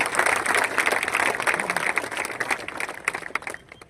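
An audience at a religious unity gathering in Nizamabad breaks into a sustained burst of clapping, close and dense, gradually thinning toward the end.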